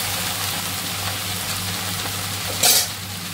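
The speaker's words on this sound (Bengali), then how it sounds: "ভাজিটা দিয়ে দিলাম।" Bhaji sizzles steadily in a pan, with a brief louder scrape of stirring near the end.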